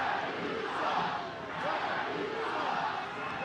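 A home crowd at a Phoenix Rising FC versus Birmingham Legion FC football match voices its displeasure at a substitution, a sustained, swelling mass of distant jeers and shouting filling the stadium.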